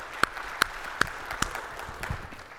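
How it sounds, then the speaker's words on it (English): Sparse, distinct claps ring out from an audience at a SharePoint conference, a handful of sharp slaps spaced about half a second apart over a quiet room, then fading away. "Yeah, you can clap."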